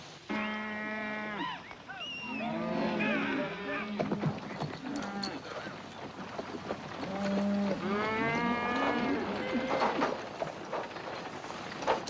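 Cattle moo and low repeatedly, several drawn-out calls overlapping over a steady rumbling background, moderately near.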